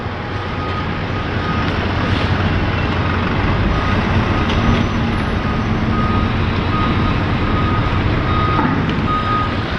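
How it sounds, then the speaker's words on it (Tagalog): Vehicles and motorcycles drive off a large ship in heavy rain, with a reversing beep sounding over dense, constant engine rumble and rain noise, loud and continuous. "Naglabasan ng mga sasakyan."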